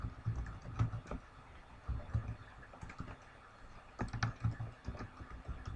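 Clicks and taps of a computer keyboard, close and fairly quiet, typed in short irregular bursts with brief gaps between them.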